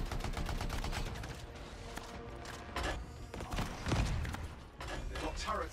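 Turret gunfire and explosions in the video game Anthem, fairly quiet overall, with repeated bursts of shots and heavy thuds over a constant rumbling game mix, and someone talking at times.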